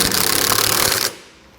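An impact wrench with a 3/4 inch socket rattles loudly and close for about a second, cinching down trailer hitch bolts against the frame of a 2022 Jeep Cherokee, then cuts off abruptly.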